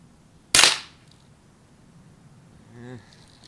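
A Winchester 1977XS air gun with a scope fires a single Umarex steel BB, producing one sharp, loud crack that fades quickly. A brief, faint voice-like sound follows a couple of seconds later.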